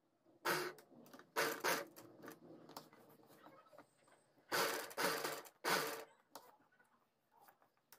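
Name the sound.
sewing machine stitching embroidery on a sleeve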